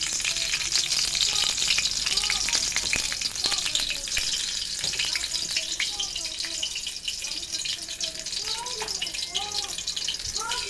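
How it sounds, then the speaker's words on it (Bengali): Leafy greens frying in hot soybean oil in a home kitchen pan, giving a steady, loud, dense sizzle and crackle that runs unbroken throughout, with occasional stirring. "এবারে শাকটা সয়াবিন তেলে ভাজবো"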